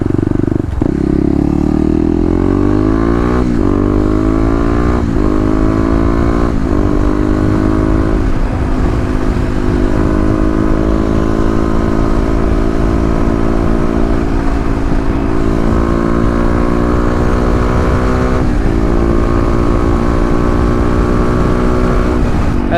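A 2018 Kawasaki KLX250 with stage 1 mods accelerates on a freeway, its single-cylinder engine climbing through gears in repeated rising pitch sweeps, loud and close with steady wind and road noise throughout.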